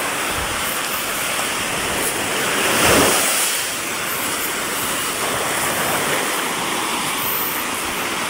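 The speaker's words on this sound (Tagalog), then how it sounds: "Hinantay ko yung alon ng tagal." Ocean waves crash against rocky shore at high tide, a continuous close, loud roar of surf that swells briefly before settling back into a steady wash.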